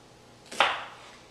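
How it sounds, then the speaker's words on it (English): A knife chops shallot on a cutting board in a raw food kitchen, a single close, sharp chop that fades quickly into quiet. "I'm chopping some of the shallot."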